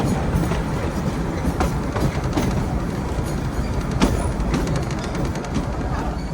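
Bilimora-Waghai narrow gauge train running, a steady close rumble of the carriage with rhythmic clickety-clack of wheels over rail joints and occasional sharper knocks, continuous throughout.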